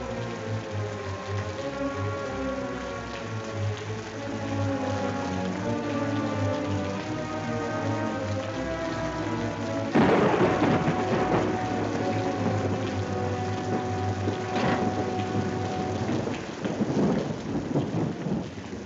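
Steady heavy rain with rolling thunder from a 1948 film, a continuous wash of downpour throughout and a louder thunder rumble breaking in about halfway, with crackling peaks near the end; no voices.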